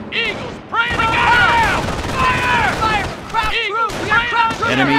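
Gunfire in the World War II strategy game Company of Heroes, loud rapid bursts of rifle and machine-gun fire with booms, mixed with shouted voices throughout.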